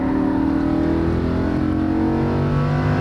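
Lamborghini Huracan LP610-4 engine accelerating hard on a race track, a loud, steady, rising roar heard from inside the car for the whole stretch.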